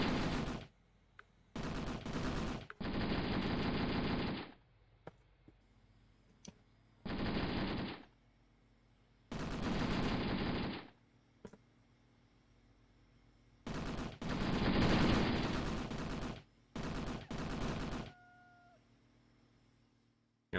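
Heavy machine gun fire in a war video game set in the South African Border War, long loud sustained bursts alternating with short pauses, close and steady.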